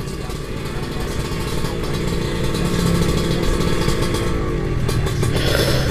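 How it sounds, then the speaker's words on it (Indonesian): A 2015 Kawasaki Ninja RR two-stroke motorcycle runs steadily and loudly up close, its dry, raspy engine note holding a constant drone with slight rises in revs throughout. "Yang bikin gue demen naik motor 2 stroke atau 2 tak gitu ya gini. Suaranya aduh masih kering banget lah"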